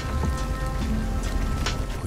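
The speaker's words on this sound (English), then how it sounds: "Push in through the rainstorm." A rainstorm in the video game Hunt Showdown: steady, fairly loud rain hisses and patters on surfaces throughout, with a low rumble underneath and no voices.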